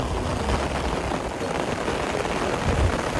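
A dense, steady wash of heavy rain on Mount Igcoron hisses without pause, loud and close, with no voices.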